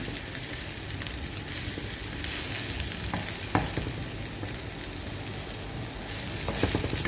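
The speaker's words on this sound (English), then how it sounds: "I'm going to just fry it a bit more." Meat pie filling with beef fries in a hot pan, giving a continuous, close, even sizzle with faint scraping from stirring and no talking.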